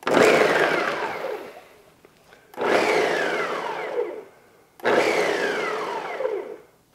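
A Ninja blender chops a large red Spanish onion in three loud pulses of roughly two seconds each, the motor whirring up sharply and easing down as the pieces break apart, with brief quiet gaps between.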